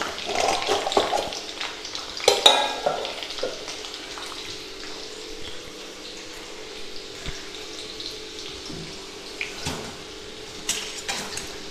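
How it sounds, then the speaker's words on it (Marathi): Garlic fries in hot oil in a pan, giving a continuous crackling sizzle with scattered louder pops and spatters throughout, heard close up with no talking. "मस्त लसूण असा खरपूस तळून घ्यायचा"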